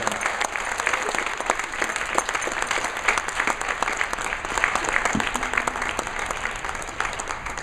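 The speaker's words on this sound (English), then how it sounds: "Clap for her again from Las Cruces, Adele Warner." An audience at a bowling tournament's main event finals claps for the girls scratch division champion, a sustained, moderately loud round of applause with scattered sharper claps throughout and no talk over it.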